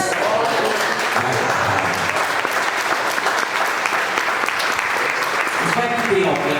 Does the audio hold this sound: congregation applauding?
yes